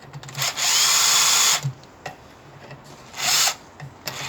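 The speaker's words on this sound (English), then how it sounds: "you can get your Torx fitting and bolt them up." A power driver runs Torx screws into the exhaust valve retaining plate of a Land Rover Hitachi or Dunlop air suspension compressor, with two loud, steady whirring bursts of about a second each. Short clicks and handling noises come between them.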